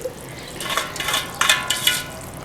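Boondi batter drops hit hot oil for motichoor laddu, each addition bursting into a bubbling sizzle, with several surges close by and no talking.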